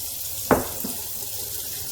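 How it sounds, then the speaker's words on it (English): Tap water runs steadily into a bowl of freshly made butter for washing, a continuous close hiss with a brief splash near the start. "So now I've added water."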